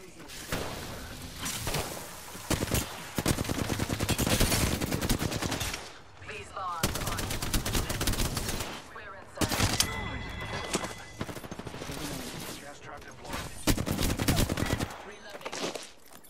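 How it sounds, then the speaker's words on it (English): Rapid bursts of automatic gunfire from the video game Apex Legends, loud and sustained with brief gaps, under game effects and a synthetic voice callout. "Taking fire. Shooting."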